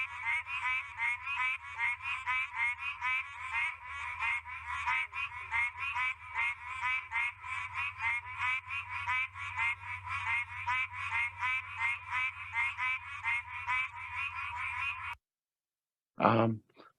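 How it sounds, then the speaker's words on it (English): A Pine Barrens tree frog calls in a long run of rapid, evenly spaced nasal honks, faint and steady over a low background drone, ending abruptly, then a brief close chirp follows. "this is a Pine Barrens tree frog calling."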